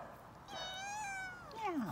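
A domestic cat gives a single drawn-out meow, rising then falling in pitch, heard close but fairly quiet over faint room noise.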